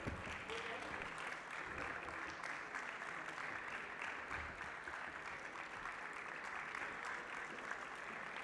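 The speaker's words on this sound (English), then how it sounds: "A big round of applause for" Sustained applause from an audience at an academic valedictory session honouring an award winner, steady dense clapping filling the whole stretch without a break.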